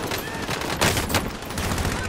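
Bursts of rapid gunfire crackle in quick succession over a busy background, sharp overlapping shots clustered near the middle.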